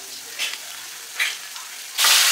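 Spices with turmeric and chili powder fry in a pan, a soft steady sizzle with brief stirring scrapes and a louder burst of sizzling at the end.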